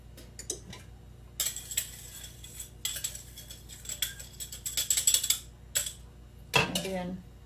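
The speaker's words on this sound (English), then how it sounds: "in a bowl, cream together butter and sugar" Butter and sugar being creamed together in a bowl for a slow-cooker cake, heard as bursts of clinking and scraping utensil strokes against the bowl, close and uneven, with quiet gaps between.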